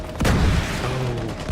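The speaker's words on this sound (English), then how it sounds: "I still hear gunfire, so maybe there's more to do" A heavy boom of gunfire rings out in the shooter game The Division 2, followed by a sustained rumbling tail and some distant tonal game sounds.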